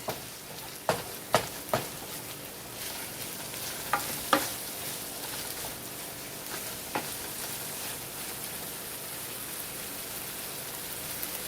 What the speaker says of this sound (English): you're going to just fry this up until it's good and brown. You just stir it every so often